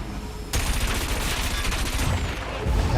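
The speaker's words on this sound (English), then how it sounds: "Missile." A missile weapon fires in the futuristic racing game Wipeout 2048. After a quiet hum, a sudden loud blast opens into a dense, roaring rush of crackling bursts that keeps going to the end.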